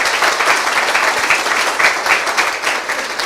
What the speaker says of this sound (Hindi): आइए इस वचन के लिए ताली बजाएंगे।